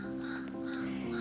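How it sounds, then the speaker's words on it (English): A crow caws near a home on a bay, a short, fairly close call over a steady background hum. "if you guys hear that crow, I'm going to keep it"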